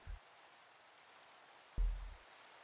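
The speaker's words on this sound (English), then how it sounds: "Just in time for the rain." Rain falls in a video game as a steady, soft hiss of drops on surfaces, faint and continuous, broken by two brief low thumps.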